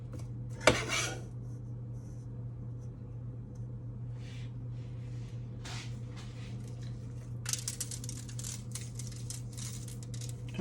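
A metal spoon scrapes and scoops hot baked scallop topping from a dish, with one sharp clink early, then scattered soft scraping and light clatters close by, and no one talking.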